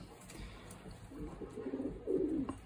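A young pigeon in a loft gives soft, low cooing calls, faint at first and growing a little stronger toward the end, with quiet room noise around it.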